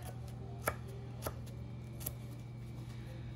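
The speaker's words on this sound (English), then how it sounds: "I'm gonna cut some garlic really thin. 2 cloves of garlic." Knife slicing two garlic cloves thinly on a cutting board, a few soft, separate chops spaced about half a second apart over a low steady hum.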